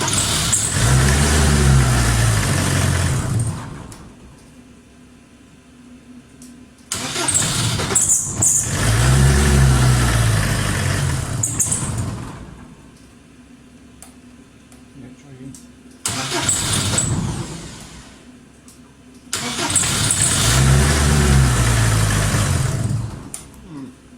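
Engine running on its fuel pump during a project car build, loud bursts of several seconds each, three or four runs separated by quieter gaps where a voice talks over a low idle hum.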